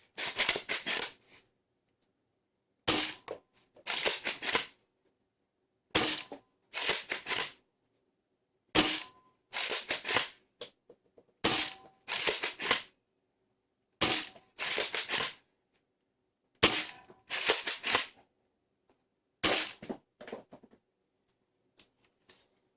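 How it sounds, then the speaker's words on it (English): A Jia Nv Hai G01 Valkyrie foam dart blaster is primed and fired repeatedly into a chronograph. About a dozen short, crisp mechanical bursts are separated by silent pauses. "let's shoot a couple of those AF knockoff to see how this G01 Valkyrie do on the chronograph"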